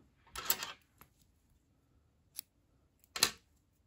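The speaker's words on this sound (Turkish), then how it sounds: "İpliği kesiyorum." Scissors snip through knitting yarn while finishing a row with a slip stitch, giving a close, crisp cut near the start followed by two shorter, sharper snips later, with no talking.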